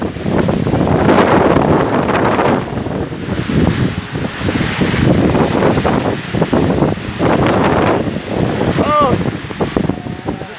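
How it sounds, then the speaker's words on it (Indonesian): Storm wind and heavy rain battering a village house, a loud, steady roar of gusting air and downpour that surges and eases in waves, with a voice speaking over it. "Hari ini kampung kami diterpa badai, angin yang cukup kencang dan juga hujan."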